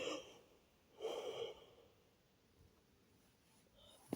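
A person yawns softly and close by, with a breathy drawn-out inhalation swelling in the middle and then fading into quiet breathing, ending in a small click; no speech.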